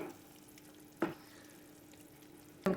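Curry leaves sizzle faintly in hot rambutan pickle gravy, a quiet steady frying hiss broken by two sharp clatters of a spoon stirring the pan.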